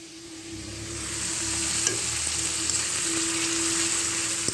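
Ground spice paste frying and sizzling in hot oil for a tilapia curry, a steady close hiss with light stirring throughout and no talking.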